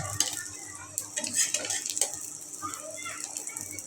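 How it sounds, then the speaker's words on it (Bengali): Eggs fry in a pan while a utensil stirs and scrapes against it, soft sizzling under irregular metallic clinks and scrapes, close by, with a little background chatter. "এখানে আমি ডিমটা ভাজতে নিতেছি"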